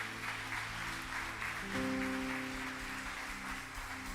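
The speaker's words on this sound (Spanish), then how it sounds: "Dale un fuerte aplauso a nuestro Dios" A church congregation applauds God at the close of a Sunday service, soft continuous clapping beneath sustained organ or keyboard tones, fairly distant and low in level.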